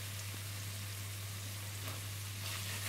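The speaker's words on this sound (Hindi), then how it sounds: "ये डाल के थोड़ा सा फ्राई करूंगी। अब मैं इसमें ये प्याज डाल रही हूँ" Chopped onions sizzling in a pan with oil, a steady loud hiss of frying throughout with no talk.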